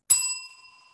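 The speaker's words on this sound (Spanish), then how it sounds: "La campana sonó por segunda vez." A single bell strike rings out clearly, with a sharp attack and steady tonal partials that decay slowly over about a second, alone with no voices.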